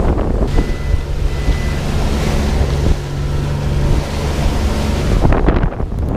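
Strong wind of about 22 knots roars across the microphone while a rough, choppy sea slaps and rushes against a sailboat's hull, loud and continuous with no voices.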